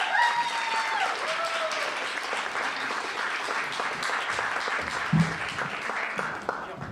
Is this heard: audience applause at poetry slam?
yes